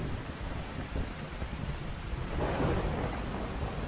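Thunderstorm in the video game Fallout 4: steady heavy rain hisses throughout, with a deep rumble of thunder swelling louder about halfway through and continuing to the end, no voices.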